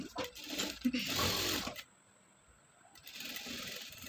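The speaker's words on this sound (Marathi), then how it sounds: "पूर्ण अशी शिलाई मारून घ्यायची" A sewing machine runs in a quick close burst, stitching a yoke strip onto a blouse, then stops abruptly and leaves a faint quiet hum.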